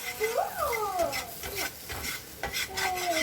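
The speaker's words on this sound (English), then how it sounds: "just cook that for a minute or so until you can't see white anymore" Flour cooks in a hot pan for a beef pot pie filling, stirred with repeated scraping strokes over a soft sizzle, close and continuous.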